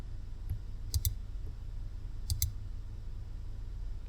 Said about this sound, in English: Now I'm going to click on rock 1.